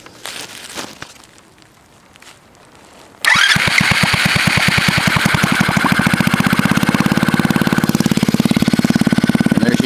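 A 90cc Chinese ATV engine that fires up after a quiet stretch, suddenly bursting into a loud, fast, steady putter of rapid small-engine pulses that keeps running to the end.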